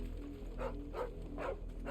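A dog in Final Fantasy XVI gives several short, soft bow-wow barks spaced about half a second apart, fairly quiet and over a steady game background hum.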